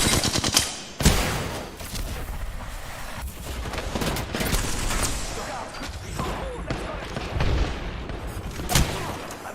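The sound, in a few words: gunfire in a video game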